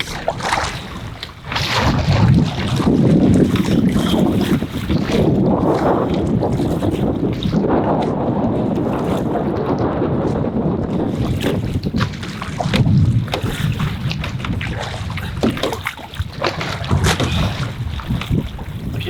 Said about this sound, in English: These winds are cranked.